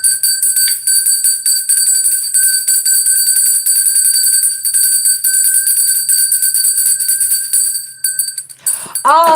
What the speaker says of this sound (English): cover your ears because I'm going to ring this bell.